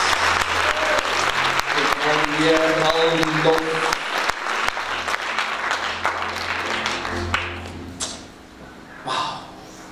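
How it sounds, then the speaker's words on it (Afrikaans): A church congregation claps in praise to Jesus, a dense, loud burst of hand claps filling most of the stretch with a voice speaking over it, then thinning into scattered claps near the end. "Geef vir Jesus een hande klap vir jou prijs."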